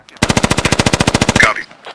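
Rapid automatic gunfire in the video game Squad, a loud close burst of about fifteen evenly spaced shots lasting just over a second, then a brief tail.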